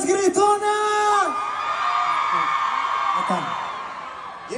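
Women in a concert crowd at a show in Sacramento screaming together in a sustained, loud roar, with a voice calling out over the start.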